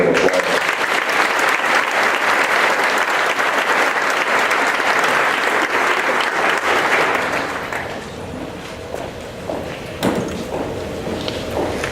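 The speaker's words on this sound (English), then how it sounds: "Let's give them all one big round of applause." A large audience at an evening awards ceremony breaks into sustained applause, dense and loud for about eight seconds before thinning into scattered claps and light background murmur.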